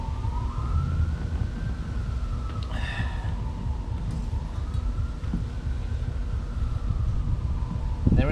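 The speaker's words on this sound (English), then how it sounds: "On the street down there, it's siren blasting and stuff." A wailing siren rises and falls slowly in the distance over steady low traffic rumble, with a few brief sharper noises nearby.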